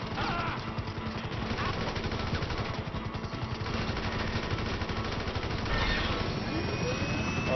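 Dense, continuous combat noise in GTA 5 on PS4 during a heist mission: a helicopter's rotor thrum mixed with bursts of rapid gunfire, loud and steady throughout.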